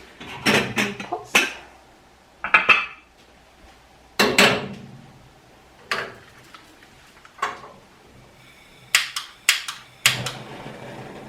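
Metal pots are set down and shifted on a stove for a lentil curry soup, a series of sharp clanks and knocks in irregular bursts with quiet gaps between, close by and fairly loud.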